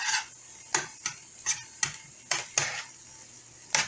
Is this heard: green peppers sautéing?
yes